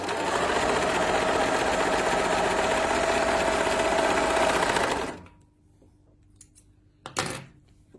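A Singer straight-stitch sewing machine stitches cotton fabric in a steady, loud, continuous mechanical whir for about five seconds, then stops, leaving quiet handling noises and a brief clunk near the end.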